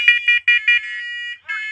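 A First Alert Onelink smoke alarm sounding loudly up close, giving a quick run of shrill beeps, a short pause, then a further tone.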